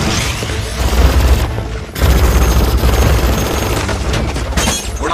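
Gunfire and crashing destruction in a Furious 7 action scene, loud dense bursts of shots and shattering impacts filling the clip with a brief lull near the middle.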